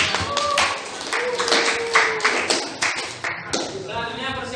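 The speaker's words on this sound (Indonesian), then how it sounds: "silakan kembali beri tepuk tangan untuk kelompok" A class of students claps for a presenting group in a classroom, a short burst of uneven hand claps with voices chattering over and under it.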